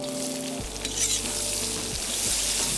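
Onions tipped into a hot pan for a beef kazan goulash hiss and sizzle loudly, a close, steady frying crackle with a few stirring scrapes and no talk.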